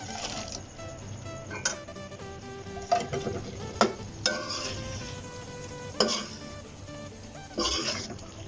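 Raw chicken tossed into a pan of onions and capsicum for sizzling chicken Manchurian, then stirred, with a few sharp spoon-on-pan clanks and scraping over a low, steady kitchen background.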